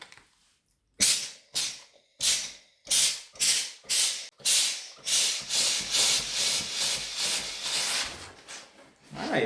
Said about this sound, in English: I like the amount of steam that it comes out from these 4 holes.